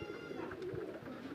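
Pigeons kept at a house coo softly in a low, rolling murmur that continues without a break, fairly close but quiet.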